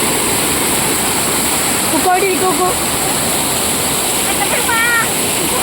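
Water flows and rushes steadily in a stream where people are bathing, a continuous loud wash heard close by, with voices talking and calling over it.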